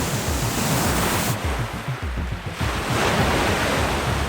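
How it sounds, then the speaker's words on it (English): Storm surf and gale-force wind at sea off the western coast of Washington state, a continuous loud roar of crashing waves and howling wind with a brief dip midway before the full roar returns. "Winds roared at over 75 miles per hour, waves rose higher than 30 feet"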